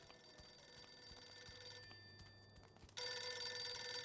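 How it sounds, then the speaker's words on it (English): A telephone rings in the Mafia 2 video game, a bright, quiet electric bell ring that buzzes on and off, then jumps louder near the end, with no talking. "The phone."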